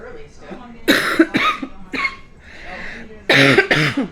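A few sharp, harsh coughs burst out in quick succession, close to the listener, with brief pauses between them.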